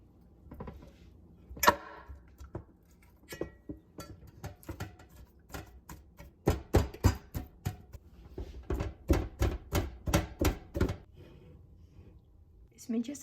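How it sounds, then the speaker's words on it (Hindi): Coriander leaves are finely chopped with a knife on a board, a run of quick sharp taps that cluster into a faster rhythm, with someone speaking between the cuts. "धनिया को बारीक बारीक काटेंगे"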